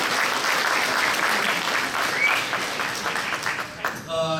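A graduation audience bursts into dense, sustained applause, many hands clapping together at close range for the full stretch and easing slightly near the end.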